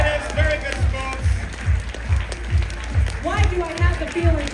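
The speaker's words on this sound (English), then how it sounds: "How about a huge round of applause for our two wonderful bidders?" A crowd at a TrotCon 2023 charity auction claps, with fairly close, rhythmic beats that swell into fuller applause as the clip goes on. A voice speaks over the clapping.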